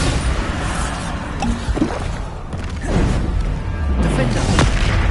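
Bombarda explosion spells from Hogwarts Legacy go off in rapid succession as heavy booms, crashes and whooshing blasts, loud and close, with debris-like rumble between the hits.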